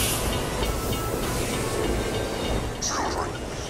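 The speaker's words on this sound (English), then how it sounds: "Come on now, we gotta keep this train on schedule." Train rolling along in the Borderlands 2 video game, a steady dense rumble with hiss that holds at an even level throughout, with a brief higher tone near the end.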